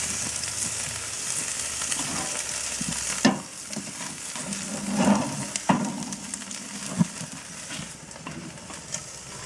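Steak sizzling and frying on a Char-Griller Akorn kamado grill, a steady broadband crackle with a few louder pops and shifting knocks as food is moved on the grate, no voices.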